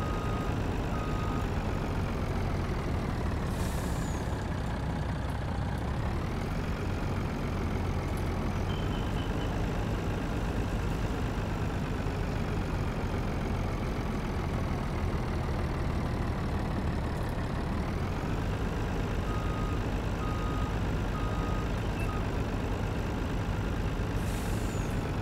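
Tow truck engine idling in Farming Simulator 19, a steady heavy diesel rumble with a faint high whine, continuous and loud for the whole stretch with no talking.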